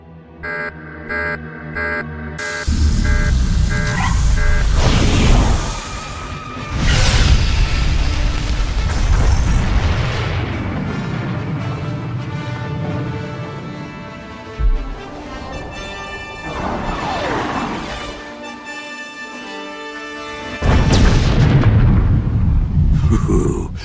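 Explosions from a launched weapon strike in Star Wars: The Old Republic: a string of heavy, booming blasts with rumbling tails, spread over a long stretch of electronic pulses and whooshes, ending in one more big burst.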